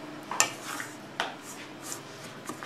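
Banana chocolate cake batter being stirred in a bowl, giving soft scraping and occasional clinks of utensil against the bowl, quiet and close with no talking.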